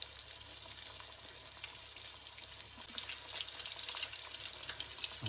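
Firecracker salmon and jumbo shrimp frying in a pan, a soft, even, continuous sizzle heard close but at low volume, with no voices.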